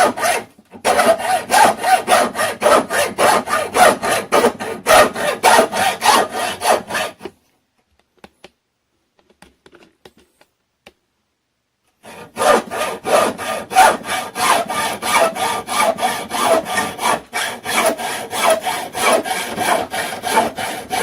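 A hacksaw cuts through a steel shotgun barrel held by a hose clamp guide, with fast, even back-and-forth rasping strokes, close and loud, broken by a pause of several seconds before the strokes resume.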